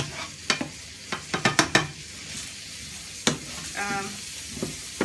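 Pine nuts toast in a pan while being stirred, giving sharp clinks and scrapes of the spoon against the pan over a steady sizzle, close and clear with no talking.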